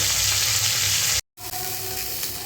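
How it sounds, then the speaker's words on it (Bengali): Pomfret fish fry in hot oil with a dense, close sizzle that cuts out briefly mid-way and then resumes just as steady. "ভেজে নেব"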